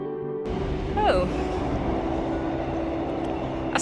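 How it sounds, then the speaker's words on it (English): Train rumbling past beneath a bridge in Cardiff, a steady loud roar with a brief squeal, heard from close by outdoors. "that's the train I get"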